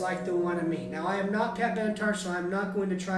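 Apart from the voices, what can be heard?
No everyday noise stands out behind the speech.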